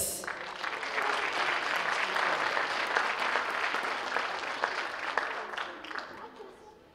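An awards ceremony audience applauding a transitional kindergarten student, steady clapping from a room full of people, sustained and fairly even, tapering off at the end.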